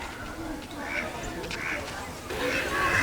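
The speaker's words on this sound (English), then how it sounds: "They're having some kind of a duck meeting." A group of ducks quacking along a river in a state park in Texas, several scattered calls at moderate distance, with a person talking over them.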